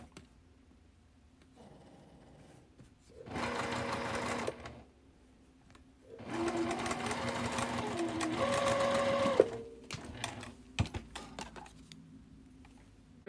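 A sewing machine stitches quilt block pieces together in two short runs, a brief burst and then a longer steady whir, separated by quiet pauses with light handling clicks.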